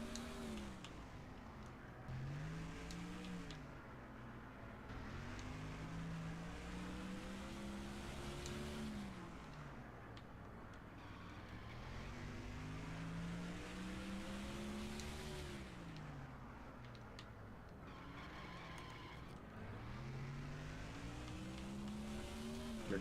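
Race car engines in NASCAR Thunder 2004, rising and falling in repeated revving sweeps as gears shift, a continuous loud drone over a long stretch of a lap.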